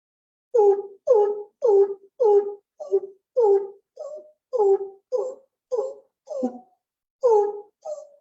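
A voice imitates the deep, booming call of the greater coucal, giving a steady series of about a dozen short, hollow hoots with no other sound.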